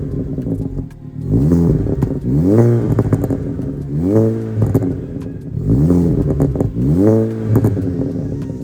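A 1.4 TSI car engine fitted with an RTMG induction kit revs up three or four times in close succession, each rise sweeping upward with a loud, throaty intake note before dropping back to idle; no talking.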